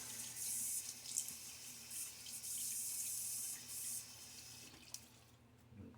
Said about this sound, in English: let me get my face splashed with some water